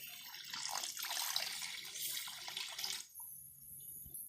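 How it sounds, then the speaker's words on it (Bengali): Water pours from a tap into a cooking pan for fish curry, a steady bright splashing rush close by that stops abruptly after about three seconds, leaving a quieter kitchen background. "তো এখন জল দিয়ে দিব।"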